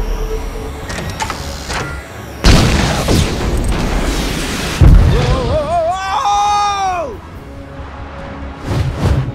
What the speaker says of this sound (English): Watch out! It's about to open fire!